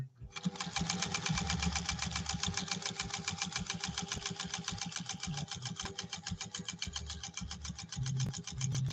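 A vintage sewing machine, a Pfaff 130-6 or Singer 201-2, stitches at a fast, even rhythmic pace for about nine seconds, a steady mechanical chatter heard up close at moderate volume, with no talking.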